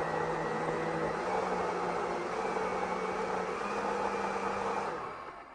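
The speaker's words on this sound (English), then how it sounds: "Get it in the blender." A blender whirs steadily as it blends chopped herbs, a fairly quiet constant motor hum with a faint tonal whine that winds down at the very end.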